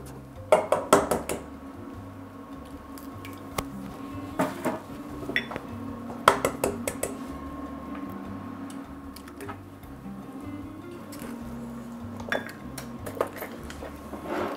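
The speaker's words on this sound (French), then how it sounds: "Donc, je te laisse casser les œufs." Eggs cracked for a flan: sharp clicks and taps of shell against a bowl rim, clustered near the start and scattered later, with clattering dishes and utensils in a quiet kitchen.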